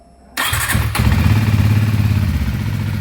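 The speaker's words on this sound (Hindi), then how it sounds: "देखिए इंजन स्टार्ट होते सारा इंजन गायब हो गया" A Hero Xtreme 250R motorcycle, fresh from its first service, starts up with a sudden crank and catches, then settles into a loud, steady, close idle with a low throbbing rumble.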